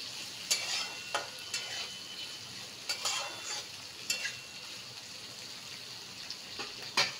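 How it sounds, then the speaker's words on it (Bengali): Chopped vegetables for veg chow mein, with no onion or garlic and potatoes already browned, stirred in a hot pan. Steady oily sizzle runs under repeated sharp scraping strokes of the spatula at an uneven rhythm, close and clear, with no talking. "আচ্ছা, আমার সবজিটা এখানে ভাজা হচ্ছে।"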